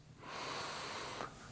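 A single soft, breathy exhale is pushed out through the nose or mouth during a seated stretching exercise. It is quiet, close and alone, lasting about a second.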